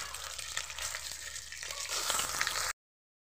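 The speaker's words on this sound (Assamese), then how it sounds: "পিঁয়াজকেইটা এনেদৰে ভাজি ল'ম।" Onions frying in hot oil, a steady close sizzle with faint crackles that swells slightly, then cuts off abruptly into silence; no talking.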